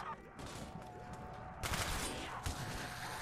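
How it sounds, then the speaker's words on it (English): SMG gunfire in the Mansion of the Undead video game, a dense rapid burst of shots that swells midway and continues steadily to the end, moderately loud under game noise. "With this SMG, I bring death!"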